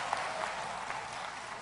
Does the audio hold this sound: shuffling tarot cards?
no